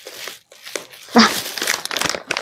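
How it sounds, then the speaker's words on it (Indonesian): Close, busy crinkling and rustling of plastic, with bursts of crackly noise coming in quick irregular waves. "tuh suara kresek-kresek apaan ya?"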